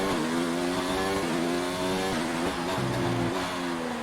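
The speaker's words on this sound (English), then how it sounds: "All the way down to second gear, up to third before the right-hander" A Formula 1 car's engine in the F1 2019 racing game screams at high revs, its pitch dropping sharply several times as it downshifts through the gears before climbing again, loud and continuous with no talking.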